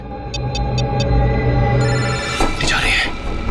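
A phone rings in a short burst of four quick electronic trills, followed by background sounds and a brief rustle.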